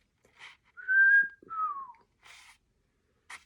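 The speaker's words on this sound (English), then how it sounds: "Have you tried to whistle?" A person whistles a few short rising and falling notes, clear and close, with soft breathy puffs of air and brief pauses between them.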